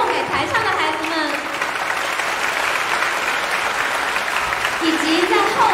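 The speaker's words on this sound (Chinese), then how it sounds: "让我们将最后再次热烈的掌声送给台上的孩子们" Concert audience at a children's Thanksgiving performance applauding the young performers on stage, a steady, loud wash of clapping throughout with a few cheers and voices mixed in.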